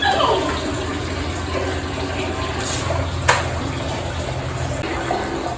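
A young child plays with water while washing a washcloth, producing a steady rush of running, gushing water with occasional splashes and one sharp knock midway, close and continuous.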